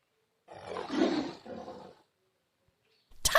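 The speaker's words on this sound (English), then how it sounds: "tiger" A tiger gives one deep roar lasting over a second, followed by a shorter, softer growl, then silence before a sharp sound at the very end.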